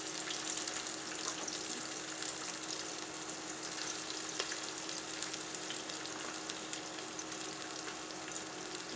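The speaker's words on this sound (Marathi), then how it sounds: "हे तळण्यासाठी टाकत आहोत" Two chopped onions fry in oil in a pan for chicken biryani, a soft, continuous sizzle and crackle at low volume with faint clinks, steady from start to end and no talking.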